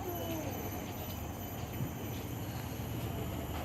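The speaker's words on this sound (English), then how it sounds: "please remain seated while the tram is in operation" A zoo tram rolls along in Singapore Zoo, giving a steady, fairly faint rumble with a continuous wash of wheel and motor noise and no distinct breaks.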